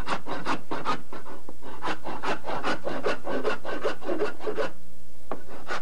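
Hide is scraped by hand to remove its top layer for making a chair, producing a loud, close run of rhythmic rasping strokes, about two per second, before a brief pause and one last stroke.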